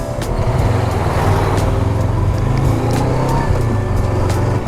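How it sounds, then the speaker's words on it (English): A big truck travels a steep mountain road in Peru, its loud, steady engine drone holding close for the whole stretch, with no pause or fade as it passes. "Big truck flying along here somewhere."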